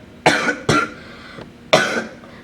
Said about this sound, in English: I've been coughing non-stop and my stomach hurts.